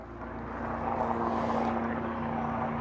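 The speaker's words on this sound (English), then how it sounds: "once the helicopter goes over, I'll talk" A steady low mechanical drone of a helicopter overhead, fairly loud and continuous, swelling slightly midway.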